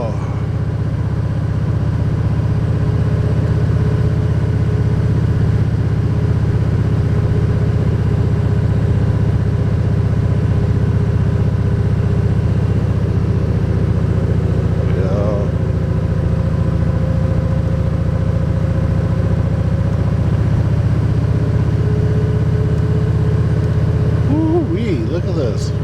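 A motorcycle cruising along Rustic Road 58, its engine hum steady and loud under constant wind roar for the whole stretch, close to the rider.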